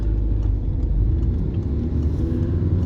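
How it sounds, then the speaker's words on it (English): A van drives around close by near a driving test centre, a steady low engine rumble and road noise with no talking. "Just waiting for this van to come around."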